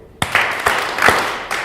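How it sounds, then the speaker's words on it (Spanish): An audience claps in unison, three sharp, loud, evenly spaced claps in a large room, followed by a fourth softer clap. "Ya vamos a aplaudir 3 veces."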